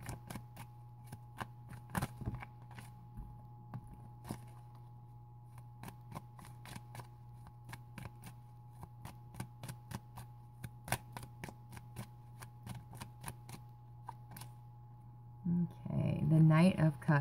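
A tarot deck is shuffled and cards are laid out, giving a steady series of crisp flicks and soft slaps over a low steady hum, with a busier handling burst near the end.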